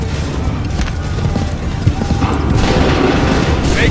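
A volley of musket fire during a battle in Assassin's Creed 3 Remastered: dense, continuous crackling and booming shots with sharp reports scattered throughout, under distant battlefield noise and faint voices.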